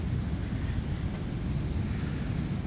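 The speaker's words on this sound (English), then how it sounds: "Just got to keep an eye on the waves" Ocean surf washes up a beach at the mouth of the Klamath River, a constant dense roar of breaking waves blended with wind buffeting the microphone, with no voices.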